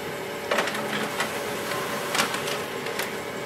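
An HP LaserJet Pro MFP 3102fdw laser printer prints a page with a steady mechanical whir, punctuated by several sharp clicks and feeding noises at close range, no speech.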